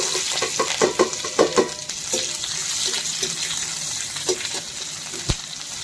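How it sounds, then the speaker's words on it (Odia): Spices tempering in hot oil in a kadai for a sweet-and-sour drumstick fry, a steady close sizzle and crackle broken by several sharp pops and utensil clinks, with no talk. "ତେଲ ତ ଗରମ ହେଇଗଲାଣି, ଟିକେ ଫୁଟଣ ଦେଇଦେବି।"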